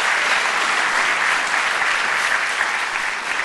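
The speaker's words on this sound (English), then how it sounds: "would you give him a round of applause?" Dense, steady applause from an audience at a university Diversity Week keynote event, a loud sustained wash of many hands clapping at once, heard alone for a few seconds.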